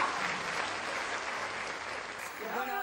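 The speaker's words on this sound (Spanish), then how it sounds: "Fuerte el aplauso para Paula Chávez." A television studio audience gives loud applause for Paula Chávez, a thick, steady roar of clapping, with a voice emerging briefly at the end.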